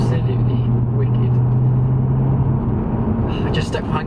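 A 2003 VW Golf R32 driving on winding roads, its engine a steady low rumble heard from inside the car, with someone talking over it for most of the stretch.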